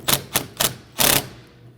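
An 8mm wrench snugging down the negative battery terminal on a 2009-2014 Ford F-150 3.5L V6: three sharp metallic clicks in quick succession, then a longer ratcheting burst, loud and close.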